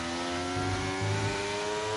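A race car in a sim racing game accelerates hard during a league race in Canada, its engine drone steady and loud with rising pitch surges, no talk over it.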